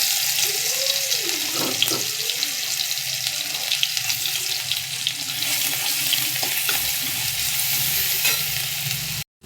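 Garlic paste frying in well-heated mustard oil in a wok, a steady loud sizzle with scraping stirs throughout, no voices.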